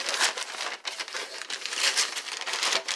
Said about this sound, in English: I'll open one of these for you on camera, and then I'm going to open them all up so you don't have to hear the crinkling